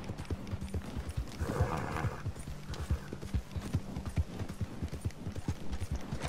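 Several horses in a video game, their hooves clip-clopping in a steady, busy rhythm up close, with a short whinny partway through over a low rumble.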